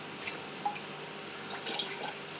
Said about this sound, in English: obviously I'm doing a water change as well